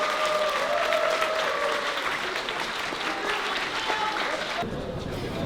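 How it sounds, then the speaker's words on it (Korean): Audience at a combat sports event applauds a fighter after his loss, a steady, loud wash of clapping and crowd noise that fills the clip, with faint tonal sounds mixed in and a brief drop near the end. "히트맨 선수께 뜨거운 박수 부탁드리겠습니다."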